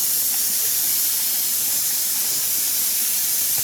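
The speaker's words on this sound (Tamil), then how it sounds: "வெங்காயம் வதங்குது." Onions sautéing in a hot pan for goat leg paaya, a steady, bright hiss of sizzling oil that stays even and close throughout, with no talking.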